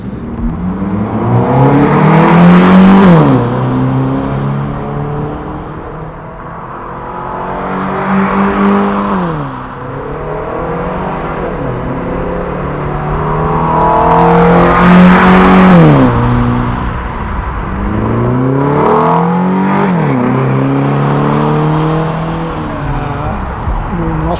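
A Mercedes-Benz 190E 2.3 16 Cosworth with 95,000 km revs repeatedly while driving on a mountain road, its engine rising and falling in loud, close acceleration sweeps through gear changes, with a faint voice at times.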